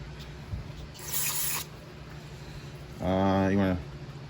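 A short, close hiss of aerosol cleaner sprayed into the carburetor of a Briggs 140cc lawnmower engine on a 2015 Yard Machine mower, a single burst of about half a second, followed moments later by a brief low voice-like hum.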